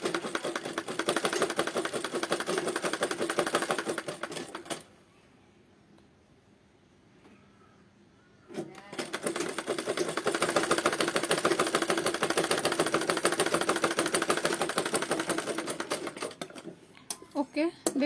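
A sewing machine stitching fabric runs in a fast, steady mechanical rattle, stops for a few seconds of near quiet, then starts again and runs on, close and loud.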